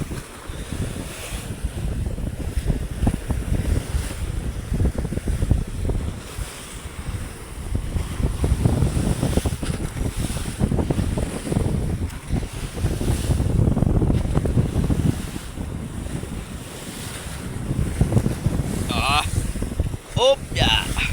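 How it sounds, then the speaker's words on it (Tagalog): A boat running at sea in strong wind over small waves, with a steady low rumble and continuous wind buffeting on the microphone throughout, and brief voices near the end. "Kahit malakas ang hangin, kaya lang. Maliliit naman ang alon."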